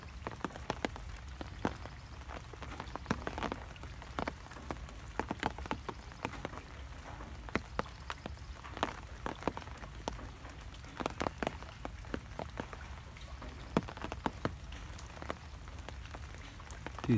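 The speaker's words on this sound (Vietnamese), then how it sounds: "Mưa lách tách lách tách." Rain patters beside an old overgrown fishing pond, with many small sharp drops ticking irregularly over a soft continuous wash, close and fairly quiet.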